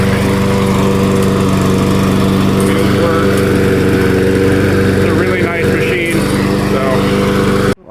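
Troy-Bilt self-propelled push lawn mower with a bagger runs steadily up close, a loud, even engine drone for several seconds before cutting off abruptly, with a voice talking over it.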